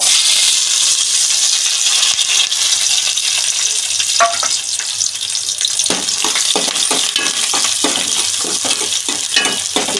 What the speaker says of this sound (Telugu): ఇప్పుడు అయితే ఉల్లిపాయలు వేసుకుందాము